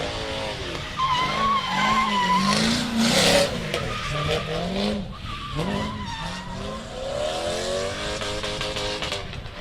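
A drift car at Meremere Drift Park during competition qualifying holds its engine bouncing off the rev limiter while the tires skid and squeal, loud and close, with the engine pitch rising and falling through the run.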